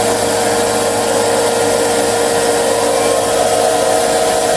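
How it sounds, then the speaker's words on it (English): A belt sander grinds a Polymer 80 Glock locking block, giving a loud, continuous whir with a steady grinding hiss held at close range and no break. "the belt sander works perfectly for this because it gives me that guide"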